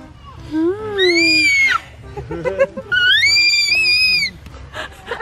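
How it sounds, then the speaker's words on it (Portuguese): A baby girl at her first birthday party outdoors in a park lets out high, rising little squeals in two bursts, close and loud, with adults chatting softly around her. "Adoro esse gritinho dela."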